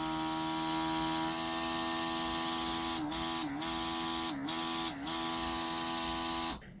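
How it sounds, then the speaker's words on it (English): A portable rechargeable airbrush compressor runs with a steady, fairly loud electric hum and buzz, dipping briefly in pitch a few times before switching off abruptly at the end. "It's not the quietest compressor in the world, but not too loud at all"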